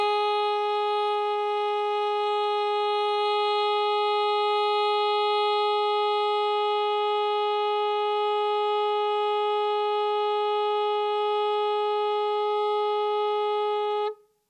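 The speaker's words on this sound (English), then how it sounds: "Play a note completely steady, without vibrato or a change in volume." A saxophone holds one steady note, even in pitch and volume without vibrato, for about fourteen seconds before cutting off.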